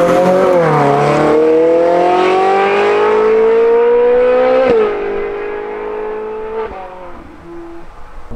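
A Ferrari 458 Spider engine screams close and loud, its pitch climbing steadily to a high wail, then dropping sharply at a shift and easing off into a lower drone.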